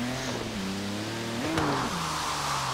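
A BMW E46 engine revs hard while drifting in Forza Horizon 3, a steady, close, loud drone whose pitch climbs and dips with the throttle throughout, with no voices.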